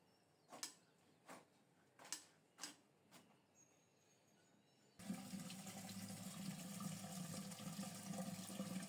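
Jackfruit is washed under running water: several faint knocks and handling taps come first, then a steady, close, loud rush of flowing water fills the rest.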